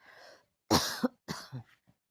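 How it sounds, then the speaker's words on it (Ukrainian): A woman coughs in a few harsh, separate bursts, close by, with short pauses between them and faint background noise before the first cough. "я щось почала кашляти"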